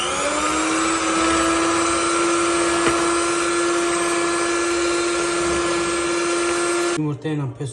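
An electric mixer whirring steadily through cake batter of eggs, sugar and melted butter, a loud constant motor whine that cuts off at the end, followed by brief speech.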